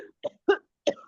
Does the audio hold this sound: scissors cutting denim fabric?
no